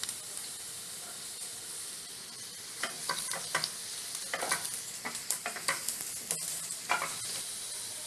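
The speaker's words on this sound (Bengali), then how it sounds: "এবার আমি আলু কেটে রেখেছিলাম ছোট করে, সেই আলুগুলো তেলের মধ্যে দিয়ে ভেজে নেব" Small-cut potatoes fry in hot oil in a wok with a quiet, steady sizzle, joined midway by a run of sharp stirring scrapes and clatters.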